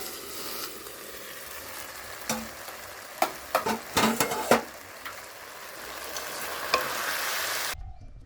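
Fish curry cooking in a pan in a Sundarbans village kitchen, with a continuous close sizzle and frying hiss, a few sharp scraping stirs partway through, and no talk.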